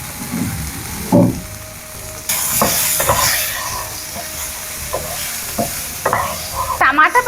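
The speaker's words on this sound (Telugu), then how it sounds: "టమాటా పచ్చిమిర్చి అయితే మంచిగా ఫ్రై అయ్యింది చూడండి." Tomato and green chillies frying in a pan crackle loudly with steady sizzling, while a spatula scrapes and stirs in repeated rough strokes and a burst of clattering comes near the end.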